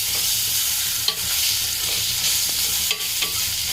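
Onions, green chillies and ginger garlic paste frying in a pan, giving a loud continuous sizzle broken by a few sharp utensil scrapes and taps, with no voices.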